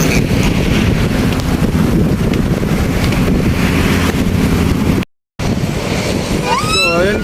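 Strong wind from an approaching sandstorm buffets a bike rider near the Doha mountains in Qatar, a loud constant roaring rush across the microphone that cuts out briefly, then resumes with a short whistling sweep.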